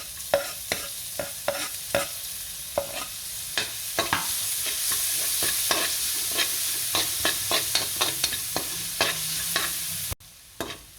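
Garlic and onion sauté in hot oil for Filipino baked macaroni, a steady sizzle with frequent sharp scrapes and clacks of a spoon stirring the pan, close and continuous with no talking.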